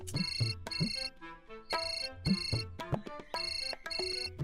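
A bright electronic phone ringtone plays a repeating melodic pattern, loud and close, in several bursts with short gaps between them.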